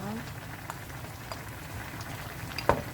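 Pork neck and potato jjageuli stew with green onion and chili peppers bubbles in a pot, a soft, steady crackling simmer with scattered pops up close, plus a brief voice near the end.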